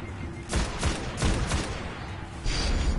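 Gunfire from the video game Destiny in a cave area: several loud bursts of shots in quick succession over a rumbling game backdrop, with a renewed burst near the end.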